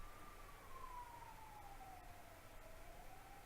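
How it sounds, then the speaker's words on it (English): An ambulance siren passing at a distance, a faint, steady wail slowly falling in pitch under a low background hum, with no talk. "Our first ambulance of the day."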